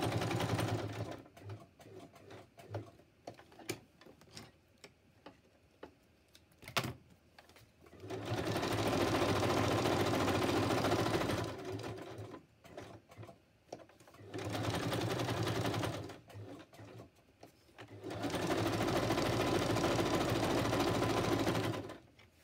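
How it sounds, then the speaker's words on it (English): A sewing machine runs a zigzag stitch in three loud, steady bursts of several seconds each, separated by quieter gaps filled with handling clicks and rustles. "Needle up, change to zigzag."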